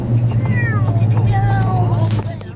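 A person imitates a cat's meow, a short drawn-out vocal mew with wavering pitch, close and clear against a steady low hum in a domestic room.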